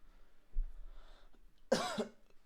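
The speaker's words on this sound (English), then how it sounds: "I keep coughing." A single faint throaty sound, then one sharp, loud cough from a ticklish throat close by, with quiet room noise around it.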